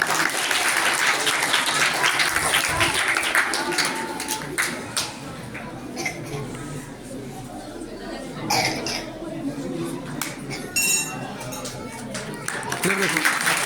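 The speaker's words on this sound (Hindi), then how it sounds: "तालियां बच्ची के लिए।" Applause from the audience at an annual prize-giving ceremony at a madrasa, honoring a girl receiving her award, steady clapping that thins midway and then picks up, with coughs and murmured chatter mixed in.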